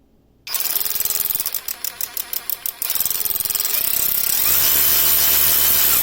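A Kobalt 24V Max cordless 3/8-inch ratchet starts with a sudden whir, then pulses in short bursts as the variable trigger is feathered before running steadily and loudly, close up.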